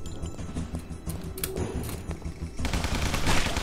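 Gunfire in the hand-drawn 2D zombie game Guns, Gore & Cannoli, rapid dense bursts of shots rattling continuously and growing busier toward the end, with no voices over it.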